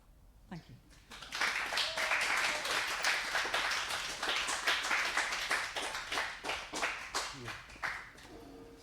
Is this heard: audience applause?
yes